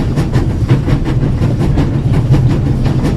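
Train moving at full speed in The Raven: Legacy of a Master Thief, a loud continuous rumble with a steady clickety-clack beat of wheels over rail joints.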